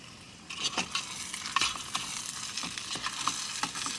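Shrimp dredged in flour cook in a canteen cup outdoors, giving a soft, steady sizzle broken by light stirring and scraping taps of a utensil against the metal cup.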